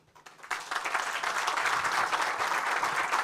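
Audience applause at an economic outlook talk, rising suddenly after a brief quiet start into steady, dense clapping from a sizeable crowd that holds loud and even to the end.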